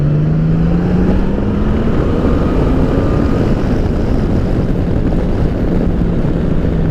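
A 2018 Honda Goldwing motorcycle runs at full throttle, its engine drone rising steadily in pitch beneath heavy, continuous wind rush.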